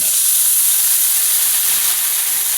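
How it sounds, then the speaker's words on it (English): Beer poured into a hot pan of pork to deglaze it gives a loud, steady hiss of steam that holds evenly throughout, with no talking. "So I take this beer and I'm going to deglaze the pan."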